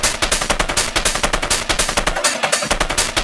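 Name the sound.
saturated wave-shaped techno percussion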